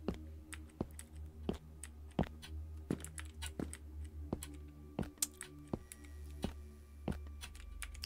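Soft, close keystrokes tap on a computer keyboard at an uneven pace, single clicks and short runs spaced through the stretch over a faint low hum, with no voices.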